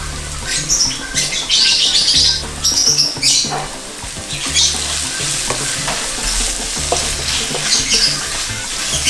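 Steady sizzling and frying of chicken in a hot pan, with occasional stirring scrapes and clatter, loud and close throughout.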